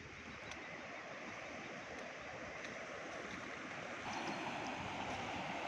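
A flooded river at Vazar Sarkate after heavy rain rushes past as a steady, faint broadband roar of flowing water, continuous throughout with no talk, growing slightly louder near the end.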